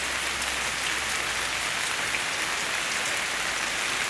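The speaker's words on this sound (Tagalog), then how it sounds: "Ito po yung ginagamit naming nagdidilig dito. Ito po ay rainburst." A Rainburst sprinkler watering plants indoors gives a steady, even hiss of spraying water that hardly changes in strength, with no voices.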